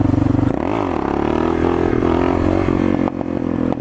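A Suzuki DR650 dual-sport motorcycle revving hard through a wheelie, its single-cylinder engine loud and close, rising in pitch as the throttle opens, holding steady, then briefly easing with some clatter toward the end.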